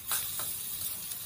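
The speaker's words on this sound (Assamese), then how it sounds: "এয়া ফ্ৰাই কৰি থোৱা চিকেনখিনি ইয়াতে দি পেলাই ভালদৰে অলপ সময়" Pre-fried chicken pieces for chilli chicken sizzling in a hot pan, a close, steady hiss with a couple of brief louder spits near the start, no voices.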